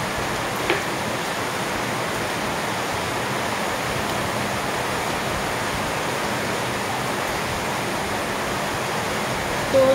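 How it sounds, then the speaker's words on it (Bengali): Pot of water heating toward a boil with a piece of jaggery, black pepper and cloves for ginger tea, giving a steady, even rushing hiss that stays constant throughout with no talk. "তো জলটা একদম ফুটে আসছে, সাথে গুড়টা গলে যাবে।"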